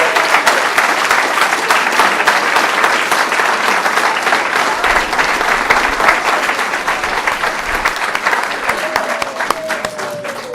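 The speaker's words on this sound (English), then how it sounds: "I would like for us to please give another round of applause for both of these people." A meeting audience claps in a dense, sustained round of applause that stays loud and steady for about ten seconds, with faint murmurs underneath and no clear speech.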